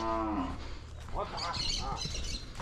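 A cow moos loudly and close by on a farm during a cattle vaccination day, the low drawn-out call followed by other animal calls and sounds around it.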